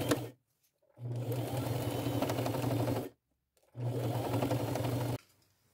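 Sewing machine stitching fabric patches onto pajama pants, two bursts of rapid steady stitching, the first about two seconds and the second about one and a half, separated by a short pause, close and alone.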